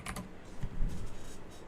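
Keystrokes on a computer keyboard during a game jam brainstorming session, a quick burst of close, light clicks followed by scattered softer taps.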